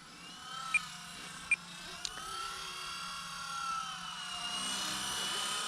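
A Blade 120 S2 fixed-pitch RC helicopter flies nearby with a high, steady motor whine whose pitch drifts as the rotor speed changes, along with a few brief sharp clicks early on.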